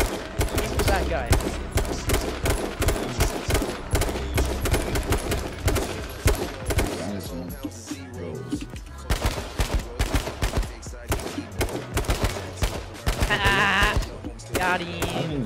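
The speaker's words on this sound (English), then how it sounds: "first two shots hit, three shots hit on the back guy" Rapid gunfire from a battle royale shooter, H1Z1 King of the Kill, crackles in dense close bursts throughout, with a brief lull near the middle, and people talk over it.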